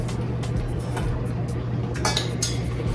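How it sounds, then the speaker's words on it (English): A hot baked potato is set down in a cast iron skillet, giving a few light metallic clinks and knocks near the end, close by, over a steady low kitchen hum. "Now we're going to put the potato in the cast iron skillet."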